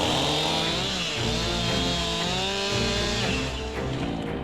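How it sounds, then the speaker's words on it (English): Chainsaw cutting through a log jammed inside a truck's wheel well during a heavy wreck recovery on a highway, a loud, steady high-revving buzz held close for the whole stretch with no talking. "You need a chainsaw?"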